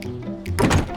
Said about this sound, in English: The front door is locked.